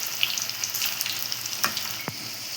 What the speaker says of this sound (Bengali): এবার বড়াগুলো এক এক করে ছেড়ে দেব তেলের মধ্যে